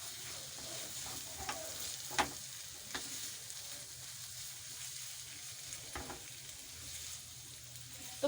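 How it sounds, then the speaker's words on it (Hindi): Chicken being fried with spices and ketchup gives a faint, steady sizzle, with soft stirring clicks and scrapes now and then over several seconds. "तो अच्छे से चिकन की हमने भुनाई करनी है तमाम मसालों में।"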